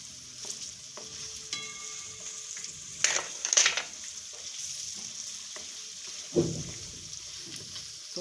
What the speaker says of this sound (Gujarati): શાકભાજી આપણે તેલમાં સડવા દઈને સરસ સડી જાય